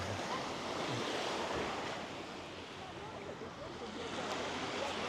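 Sea waves wash steadily onto a secluded beach in southern Corsica, a continuous broad surf roar close by, with wind buffeting the microphone throughout.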